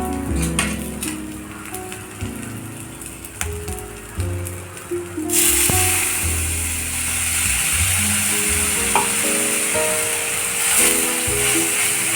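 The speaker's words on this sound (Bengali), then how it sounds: "মশলাগুলো ভাজা হয়ে গেলে দেখবে চারদিক দিয়ে তেল ফুটে আসবে।" Mushroom masala spices frying in oil in a pan, soft crackling at first, then a loud hiss and steady sizzle as liquid hits the hot oil, with faint tonal background music throughout.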